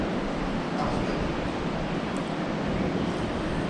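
Constant broadband roar of a waterfall inside Arrowhead Cave, a steady rushing wash with no breaks, even and enveloping throughout.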